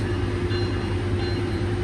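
A five-car passenger train pulling out of a station, giving a loud, steady rumble with a continuous low drone that fills the whole stretch, close by.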